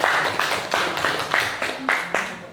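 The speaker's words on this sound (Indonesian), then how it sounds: "Tepuk tangan buat semuanya." Audience clapping at the opening of a school positive-culture session, a scattered, uneven round of hand claps with distinct bursts, moderately close, with faint voices in the background.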